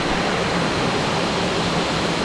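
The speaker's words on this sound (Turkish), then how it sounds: "Burası gerçekten waterfall, şelale yani." A jungle waterfall on Koh Samui, Thailand, roars in a dense, constant wash of falling water, loud and close, with no voices.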